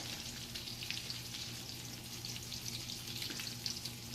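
A schnitzel fries in a big hot pan on high heat, giving a constant bright sizzle with a faint underlying hum, steady and close with no talk.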